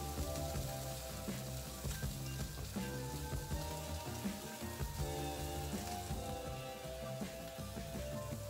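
Mushrooms frying in a pan until crispy, a constant dense sizzle and pop at close range, steady throughout with no talking.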